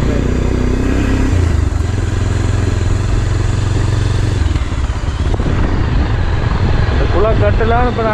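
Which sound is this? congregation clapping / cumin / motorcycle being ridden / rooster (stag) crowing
motorcycle being ridden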